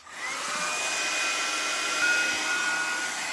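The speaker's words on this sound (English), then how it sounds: "I'm going to give this a quick blast off with my heat tool" A heat tool blasting hot air to dry ink on a coloured art piece, a loud steady whooshing hum held close for a few seconds, alone with no talk.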